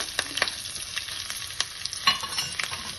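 Asafoetida, ginger and green chillies sizzle in a hot tempering for katte pongali, a light crackle broken by sharp clinks and scrapes of stirring, fairly faint and close.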